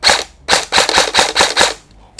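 A rapid burst of sharp, snappy shots from an E&C M16 electric airsoft rifle, about eight in quick succession, close and loud, then a single faint click.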